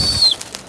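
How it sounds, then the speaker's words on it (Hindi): A pigeon bursts into flight, a quick close flurry of flapping wings lasting well under a second, with a thin high whine in the background. "तो गाइस देखो उड़ गया कबूतर"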